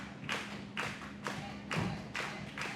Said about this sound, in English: Stomping a hole in Casey.